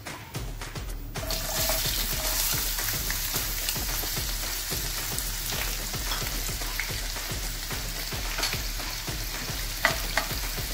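Chopped onion sizzles and crackles in hot oil with cumin and mustard seeds, a dense, steady frying hiss with stirring scrapes throughout, close and moderately loud.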